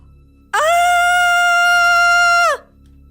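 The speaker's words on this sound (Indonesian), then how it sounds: "tiba-tiba teriak kenceng banget" A woman in an Indonesian horror audio drama lets out a single loud, sustained scream lasting about two seconds over a faint low background hum, then falls silent.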